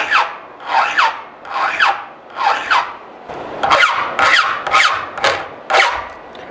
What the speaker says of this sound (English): I'll file the rake 5 times on each one